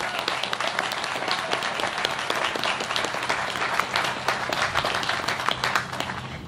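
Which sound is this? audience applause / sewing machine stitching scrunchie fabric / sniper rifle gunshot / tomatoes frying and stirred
audience applause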